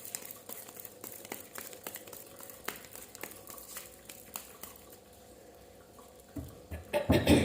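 A deck of tarot cards is shuffled by hand, making quiet, repeated crisp flicks and riffles, with louder rustling near the end.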